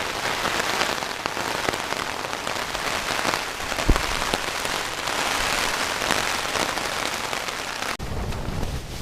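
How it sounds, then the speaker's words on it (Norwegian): Steady rain drums on a tent during a paddling trip on the Leaf River in northern Quebec, a dense continuous patter close around the listener, with a few louder drop hits and wind in the background. "Nå regner det litt."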